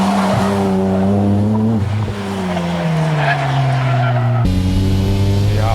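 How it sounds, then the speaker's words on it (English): A JDM race car drifts through flat sections with fast slides, its engine howling steadily while tires squeal continuously, loud and close, with the pitch dipping and rising through the run. "In the flat sections, the car is capable of fast drifts with very little countersteering."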